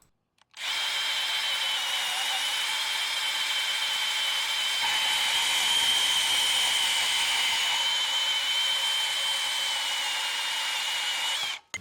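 A Milwaukee M18 FUEL compact bandsaw cuts through a metal bar a little under a quarter inch thick, giving a loud, continuous whining buzz that starts abruptly and holds steady for about eleven seconds before stopping.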